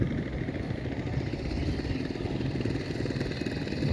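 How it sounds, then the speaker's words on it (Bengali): A fast engine-powered river boat with a Burmese engine runs on a river at Thanchi, giving a steady, fairly loud throbbing drone that holds evenly throughout with no voices. "ইঞ্জিন চালিত নৌকাগুলো খুব স্পিডে চলে"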